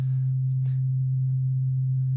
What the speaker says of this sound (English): If I play a note at a single frequency, which is a sine wave,